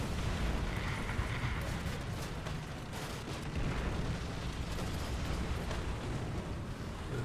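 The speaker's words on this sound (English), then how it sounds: "Got artillery coming in." Artillery shells explode in War Thunder during a Japanese Chi-Nu II medium tank battle, a dense continuous rumble of booms and bursts, moderately distant and fairly quiet, with no talking.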